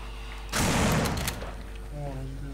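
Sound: gunshot fired at a wooden plank in the video game No More Room in Hell

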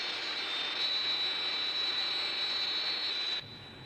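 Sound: jet aircraft flying

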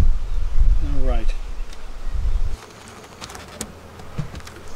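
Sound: honeybees buzzing around hive

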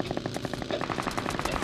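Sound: rapid gunfire in the video game BGMI

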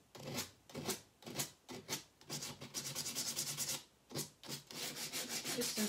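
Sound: sanding wooden sign pieces by hand

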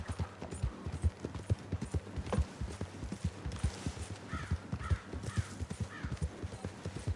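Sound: horse hooves clip-clopping in video game

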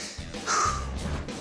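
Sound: crow cawing

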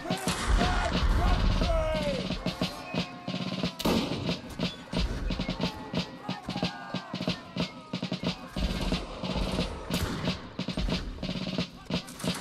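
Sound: musket gunfire, from video game Mount & Blade: Napoleonic Wars

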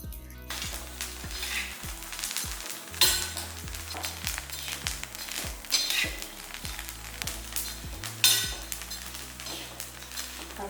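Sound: dry roasting black kavuni rice in a pan

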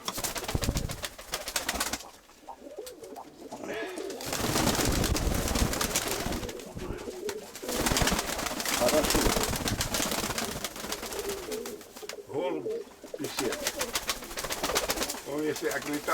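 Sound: Mykolaiv pigeons cooing

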